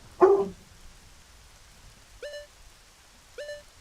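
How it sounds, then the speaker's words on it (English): A pet dog gives a short bark, with two faint, high tonal beeps following later in the quiet room. "There's my dog."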